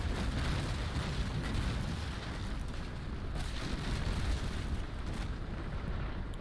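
Cannon broadside from a sailing warship in the naval combat game Naval Action, a pirate frigate engaging a third-rate ship of the line: a continuous dense rumble of booming shots rolling on for several seconds, loud and heavy with no voices.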